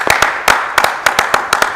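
A church audience claps in acclaim for the Lord, a short burst of loud, sharp handclaps in uneven clusters, close and dry.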